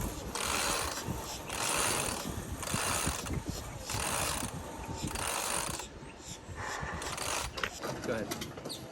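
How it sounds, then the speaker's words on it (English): Spinnaker hoisted by hand on a sailboat, new Dyneema line running through pulleys in repeated ratcheting, whirring pulls with brief pauses between strokes, close and steady. "So we'll just start easily pulling up the spinnaker."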